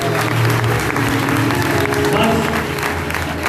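Loud, sustained applause from a church congregation at a healing prayer gathering, steady and dense throughout with a continuous crowd murmur beneath the clapping.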